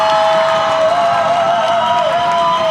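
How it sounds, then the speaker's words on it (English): A Medford home crowd at a girls varsity volleyball match against Lynn English cheers loudly and steadily in a gym, one dense, unbroken wall of voices. "The whole crowd, the whole Medford side getting excited."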